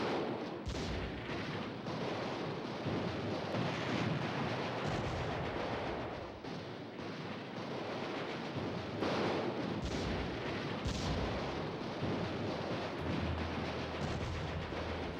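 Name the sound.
artillery firing in video game Allied General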